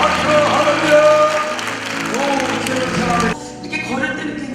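A church congregation claps together in a sustained burst of applause, mixed with loud voices calling out, before the clapping cuts off and talk continues.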